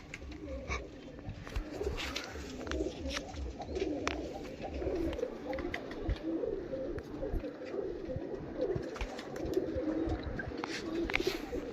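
Several domestic pigeons coo continuously in low throaty rolls close by, with scattered clicks and light shuffling throughout.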